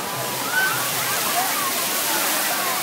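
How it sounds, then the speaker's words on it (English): Small waterfalls splash steadily at a waterpark, a loud continuous rushing wash with faint voices in the background. "Nice little waterfalls popping up all over the place."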